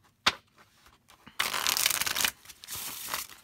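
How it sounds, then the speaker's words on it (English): A standard-size tarot deck of durable cardstock is riffle-shuffled: a couple of soft taps, then a close, fast ruffling flutter of cards cascading together, repeated in two bursts. "The cardstock is really durable, but it's not so stiff that you can't riffle shuffle it."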